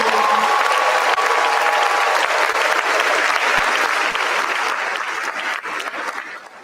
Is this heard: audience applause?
yes